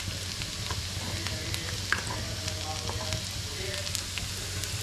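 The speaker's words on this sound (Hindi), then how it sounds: "तो ये हल्के ब्राउन हो गए तो मैं चिली फ्लेक्स डाल रही हूँ।" Steady sizzling from a pan frying lightly browned food as chili flakes go in, a dense continuous crackle close by with occasional small pops and faint background voices.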